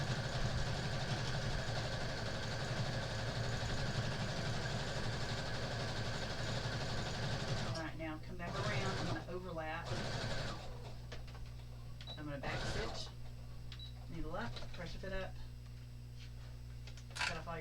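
A home sewing machine stitches around a two-toned tote bag in short bursts of rapid mechanical whirring, fairly close, with a person talking in between and over the runs.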